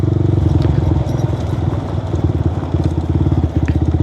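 A motorcycle rides over a rough, broken patch of road, its engine a loud, close, pulsing drone that wavers slightly with bumps and clatter throughout.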